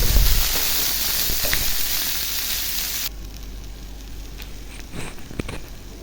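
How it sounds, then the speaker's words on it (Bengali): Eggplant fries in hot oil with garlic and onion, giving a steady, close sizzle with scattered crackles. The hiss is loud at first, drops noticeably about halfway through, then carries on more quietly with a few sharper pops. "বেগুনটা দিয়ে দিলাম, এখন পেঁয়াজটা ভাজা হয়ে গেছে।"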